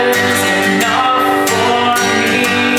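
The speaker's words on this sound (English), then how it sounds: "here's an example of a strum pattern switch in this song" Acoustic guitar strummed in a worship-song pattern for Christ Is Enough, shifting rhythm as the chorus ends and the bridge begins; steady, full chords ring close and alone with crisp strum accents throughout.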